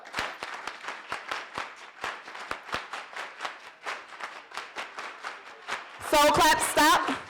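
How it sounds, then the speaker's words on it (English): A group performs a rhythmic soul clap during a Giwayen Mata performance, with steady, evenly spaced claps close by, then a denser burst of louder clapping and voices near the end. "Soul clap. Go."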